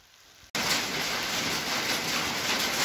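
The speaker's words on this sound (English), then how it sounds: "As you can hear, it's still raining," Steady outdoor rain in a wooded county forest park, a dense even hiss that starts abruptly and stays loud and close for the rest of the clip, with no talk.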